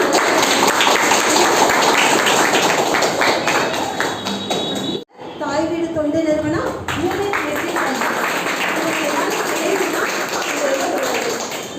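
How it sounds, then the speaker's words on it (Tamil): An audience at a day-care centre event for special children claps in thanks for seven staff members, a dense patter of hands mixed with voices, broken by a brief pause midway before resuming. "இந்த 7 பேருக்கும் நம்ம கைத்தட்டி நம்மளுடைய நன்றியை"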